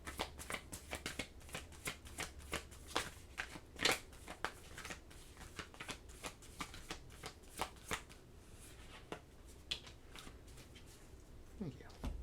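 A deck of oracle cards is shuffled close by, giving dense, crisp riffling bursts with sharp slaps, repeated for several seconds.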